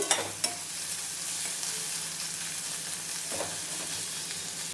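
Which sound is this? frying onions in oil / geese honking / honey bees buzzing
frying onions in oil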